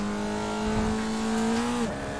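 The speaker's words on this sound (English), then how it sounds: "I'm getting nothing but sound on these ripple strips." A race car in the iRacing sim runs over rumble strips, a steady engine drone with a sustained buzzing tone that holds and then drops sharply near the end, loud and close with no voices.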